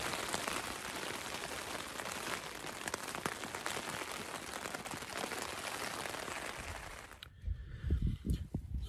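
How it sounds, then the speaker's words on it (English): Rain falling on a tent during a backpacking trip at Grand Canyon, a dense, fairly quiet patter that stops abruptly near the end, leaving low rustling and thumps close by. "as you can hear, it's raining again."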